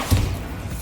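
Bombarda blast spell striking in Hogwarts Legacy, a single dull, heavy thump with a short low rumble that quickly settles into quiet game ambience.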